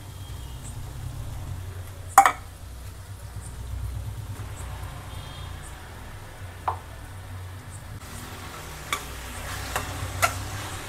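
Ground spice paste added to a bitter gourd gravy in a pan, stirred with a soft, steady sizzle and a few sharp clinks of the spoon against the pan, fairly quiet and close, with no talking.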